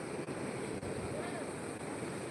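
The Purna river in flood runs at a dangerous level, its water rushing hard beneath a high bridge under cloudy skies. It makes a steady, dense roar that never lets up, with wind buffeting the microphone.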